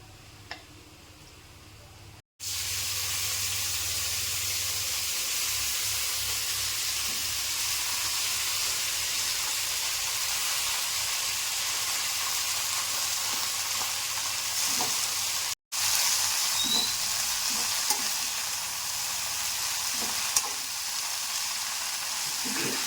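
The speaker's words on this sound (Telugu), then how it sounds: "మళ్ళీ ఇంకొద్దిగా నూనె వేసుకొని కొత్తిమీర వేయించుకోవాలండి." Coriander leaves frying in hot oil for a chutney, a steady dense sizzle and hiss that runs nearly unbroken with faint stirring ticks, close and even, briefly cut twice by short silences.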